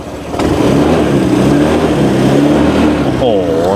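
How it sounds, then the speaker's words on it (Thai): A used Honda PCX150 or Click160 scooter engine revving loudly as the throttle is twisted, a steady close-up drone holding high throughout, with a rising whine near the end. "เดี๋ยวบิดคันเร่งให้ดูมีควันขาวไหมนะครับ"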